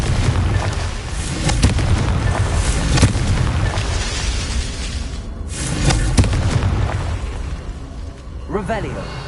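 Confringo fire-blast spells go off in Hogwarts Legacy, a series of loud booming bursts and crackling blasts repeating every few seconds over a continuous rumbling game soundtrack, with a voice speaking alongside.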